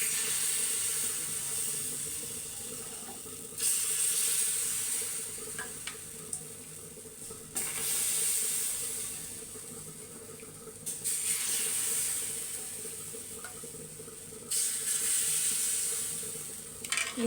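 Rice-flour batter for chitoi pitha goes into a hot, oil-brushed clay pitha pan, raising loud repeated bursts of hissing sizzle every few seconds over a steady background hiss, with no talking.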